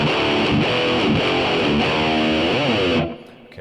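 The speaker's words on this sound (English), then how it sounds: "a mellow rhythm sound for this one." Mellow rhythm guitar played through an AmpliTube 4 MESA/Boogie amp simulator, a steady strummed pattern with lightly distorted, sustained chords that cut off to near silence at the end.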